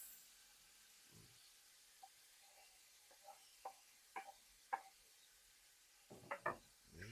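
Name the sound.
onions frying for arroz caldo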